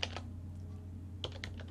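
A few quiet clicks from a computer keyboard, one short burst at the start and another near the end, over a steady low hum.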